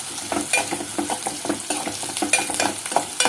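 Sliced onion fries in a pan until reddish, ahead of cooking broad beans, with a loud, busy crackle and constant rapid scraping of a spatula, close up and with no voices.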